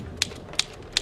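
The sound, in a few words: mysterious typewriter being typed on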